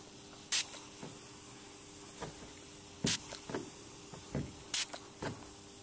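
Refrigerant escaping from a cracked pipe on a milk tank gives short sharp bursts of hissing, about three loud spurts among fainter intermittent hisses, close by with no talking.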